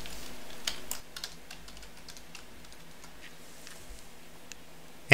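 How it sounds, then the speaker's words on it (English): Steady typing on a computer keyboard as a message is entered in tax software, many light, close clicking keystrokes in an uneven rhythm over a quiet background, with no talk. "And I'm going to type in my message."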